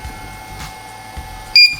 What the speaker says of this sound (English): there's our firmware beep